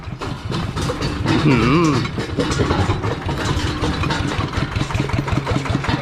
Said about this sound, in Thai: ต่อไปก็จะติดเครื่องแล้ว